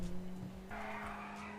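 A game car drives steadily with a constant engine drone, then its tires squeal into a sustained skid, fairly close and moderately loud, with no one speaking.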